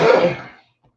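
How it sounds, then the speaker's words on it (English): A single short cough with throat clearing, close and fairly loud, fading quickly into silence. "Trying to get rid of this cough."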